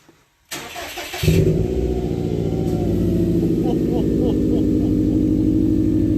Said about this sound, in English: That is the exhaust, that quad exhaust with the burnt tips, aftermarket.